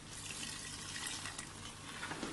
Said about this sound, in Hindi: और मैं अब पानी ऐड करूंगी।